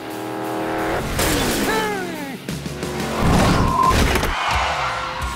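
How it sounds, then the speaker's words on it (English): Cartoon car speeds off on a test drive, with engine whooshes, revving and zany sweeping tones mixed with music and effects, loud throughout. "Let's take it for a test drive."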